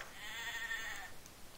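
A single sheep in the video game Stranded 2 lets out a short, clear bleat, fairly quiet and heard alone.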